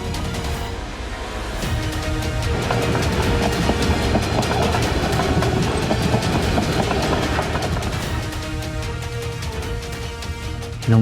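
A train passes along a railway track at night, a loud, close rumble with rapid clickety-clack of wheels that builds and holds steady for several seconds.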